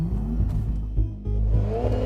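A 2014 Porsche Panamera 4S with a twin-turbo V6 and PDK gearbox launches hard, its engine note climbing loud and close with a quick dip at a gearshift before pulling again.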